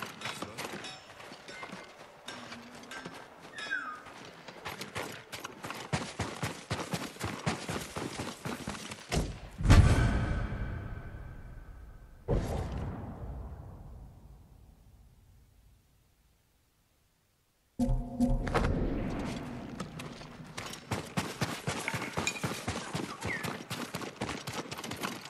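Horse hooves clip-clopping at a brisk rhythmic pace in the video game Ghost of Tsushima, with a heavy thud midway, a long fade into silence, then the hoofbeats resume loudly.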